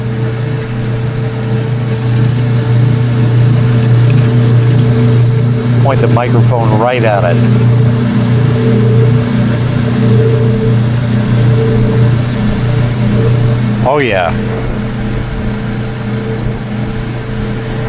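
An old washing machine runs with its loud original-style drain pump, giving a deep, steady, thunderous hum that continues throughout while a person speaks briefly over it.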